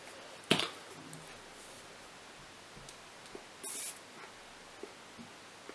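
Two short hissing sprays from a Maybelline Glass Spray face mist bottle break an otherwise quiet room, with a few faint clicks and taps around them.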